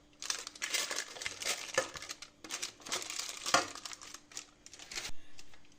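Precut parchment paper crinkles as it is pressed into a 20 cm cake pan, in bursts of crisp rustling and crackling separated by short pauses, close up and with no talk.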